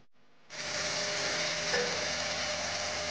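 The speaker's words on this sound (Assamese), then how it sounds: "মাংসখিনি অলপ দেৰি এনেকৈ ভাজি ল'ব।" Meat and potatoes for a chicken gravy hit a hot, oiled pan after a brief quiet moment. A loud, steady sizzle then runs close and unbroken.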